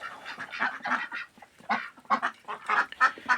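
A large flock of domestic ducks, including a black Muscovy, honks and quacks in rapid, irregular bursts close by, with no voices.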